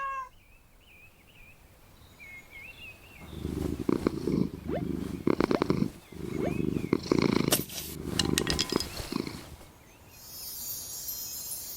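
A cat in the Minecraft video game purrs in rumbling bursts through the middle of the clip, close and fairly loud, with faint chirpy game sounds in the background and brief quieter gaps.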